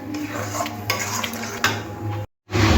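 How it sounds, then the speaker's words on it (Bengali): A metal spatula stirring dry khesari dal in a pan, brisk scraping and clinking strokes up close, cut by a brief silence before the stirring resumes. "এরকম করে খুন্তি দিয়ে শুধু নাড়তে হবে নেড়ে নেড়ে ডালটাকে একদম শুকনো করে ফেলতে হবে"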